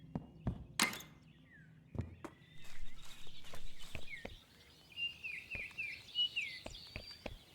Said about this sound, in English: Pretty birds, we love to hear it.